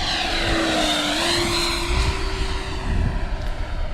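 A Banana Hobby Aerofoam Diamond RC jet with a 105mm 12s electric ducted fan makes a slow pass at about one-third throttle, a steady, loud whining drone whose pitch shifts slightly as it passes close by.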